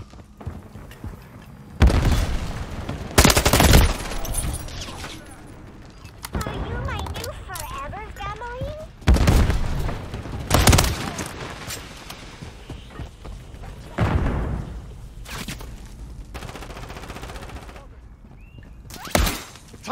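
Bursts of automatic gunfire and booming shots ring out repeatedly in a Call of Duty Modern Warfare 3 multiplayer match, loud and close, between quieter stretches with radio-style callouts and character voices.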